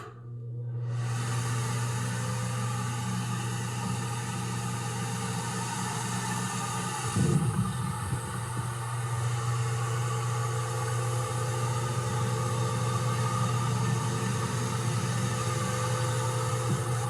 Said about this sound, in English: So it's just loud enough to provide white noise and cancel out nuisance exterior noise that you don't want to hear